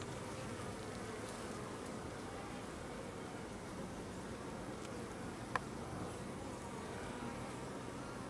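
Honey bees swarm over the frames of a hive opened for a first inspection, their dense, steady buzzing humming without pause, close by and unbroken, with no voices.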